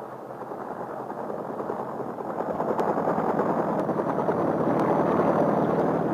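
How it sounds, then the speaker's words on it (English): A helicopter at Operation Ivy, a 1950s nuclear test operation, heard as a broad, steady engine and rotor rumble with no pauses, growing gradually louder as it approaches. "Helicopters must get in quickly and get out again before that hour is up."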